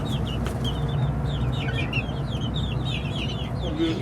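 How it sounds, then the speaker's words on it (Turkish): Chickens and roosters cluck repeatedly over steady farmyard background noise, with several birds calling close by in quick, overlapping bursts. "Güzel horozlarım ve güzel tavuklarım olacak."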